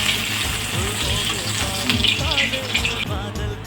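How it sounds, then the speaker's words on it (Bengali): Pomfret fish frying in hot oil for a Bengali jhal, giving a steady close sizzle with a watery crackle throughout, occasional faint clinks over it, no talking. "এইভাবে বাকি মাছগুলো ভেজে নেব।"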